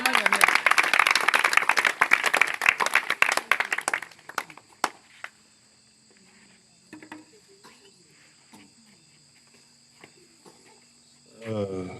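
Congregation at an evangelism night in a village camp clapping and acclaiming, a dense burst of rapid claps and cheering for about four seconds, then dropping to scattered faint sounds and a steady insect-like chirp.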